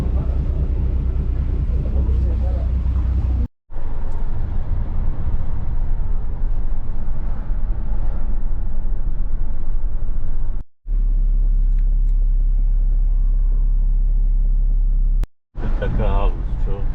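A deep, continuous rumble of vehicles and engines aboard a car ferry fills the space, loud and close, broken by brief cuts, with voices talking over it.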